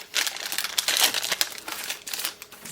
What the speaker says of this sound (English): So let's go straight on into opening the packs.